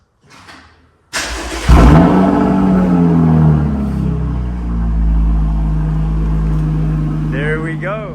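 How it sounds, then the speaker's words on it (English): A Chevrolet Camaro engine starting up: a brief crank, then a sudden loud catch and bark that settles into a deep, steady, rumbling idle, close by, with a voice talking near the end. "let me get y'all a cold start real quick"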